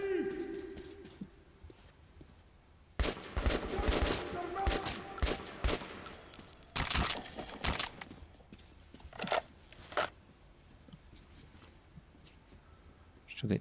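Gunfire in the video game Metro Last Light Redux comes as bursts of rapid shots, some in dense automatic strings and others as single cracks, loud and close, heard alongside occasional game sounds.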